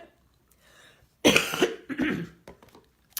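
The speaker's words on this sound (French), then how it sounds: "désolée, j'ai une petite toux" A single close cough bursts out, followed by a second smaller cough and a soft throat sound, in an otherwise quiet room.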